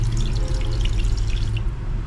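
Water filling a toilet cistern tank after the water closet float was adjusted, a steady close rush and trickle with a continuous low hum, loud and alone.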